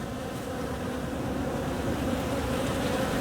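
Honeybees in a small winter cluster buzz steadily inside an opened hive during a late-December inspection, a close, continuous hum without talk.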